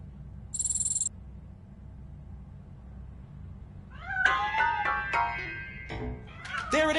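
Several meows from a cat in Robocop: Rogue City come in a cluster near the end, preceded by a brief high electronic tone over quiet low background hum.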